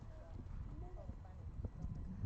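Horse hooves clop under a riding instructor's talk during a riding lesson, a few soft, irregular footfalls fairly close amid low arena noise.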